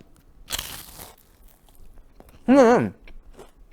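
Two crisp crunches of a crispy Korean fried rice snack being bitten, close up, separated by a short pause, with faint mouth sounds between.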